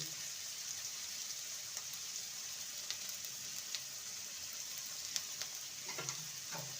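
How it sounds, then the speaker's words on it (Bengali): Chopped onion with grated ginger and garlic frying in a pan, producing a constant soft hiss of sizzling oil with faint occasional stirring clicks, heard alone. "ভালো করে কষিয়ে নেব পেঁয়াজ আদা রসুনকে"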